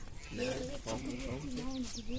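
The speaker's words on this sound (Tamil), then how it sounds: "இதுதான் ஹோமரு ரேஸ் புறா" Homing racing pigeons coo in soft, repeated rolling calls close by, with other bird chatter in the background.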